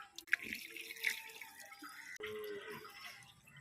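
Water pours and splashes into the radiator of a VST 16.5 hp power tiller, a faint, uneven trickle and drip with a couple of sharp clinks.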